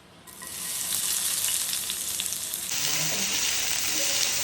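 Sliced large onions hit hot coconut oil, breaking into a loud, steady close-up sizzle that holds throughout.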